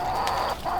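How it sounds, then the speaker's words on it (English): Chickens cluck in a few close, short bursts as they are let out of their coop. "Rylan, you want to let the chickens out?"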